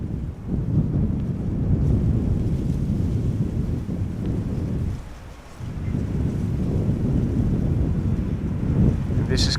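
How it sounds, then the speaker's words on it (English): Strong wind buffets a microphone outdoors at Amsterdam Schiphol Airport, a loud continuous low rumbling roar with one brief lull midway. "Wind is picking up a little bit and it is causing some shudder"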